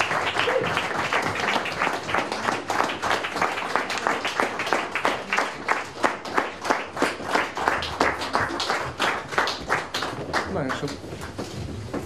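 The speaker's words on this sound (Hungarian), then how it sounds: "Nagy tapsot nekik!" An audience at a music awards gala applauds a band, with loud, sustained clapping that settles into a rhythmic, unified beat partway through, while voices are heard among it.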